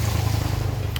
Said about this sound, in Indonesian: sekarang kita mencoba untuk menyalakan motornya, apakah masih ngeberebet atau sudah bagus